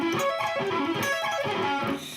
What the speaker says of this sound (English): Now the 4th and last version would be string skipping combined with tapping.